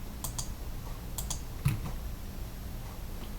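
Quick, light clicks of typing on a computer keyboard, a few scattered keystrokes in short bursts, faint and close over a quiet room hiss.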